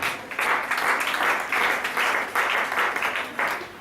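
A church congregation breaks into sustained applause, loud and dense, rising and falling in waves of clapping with no break.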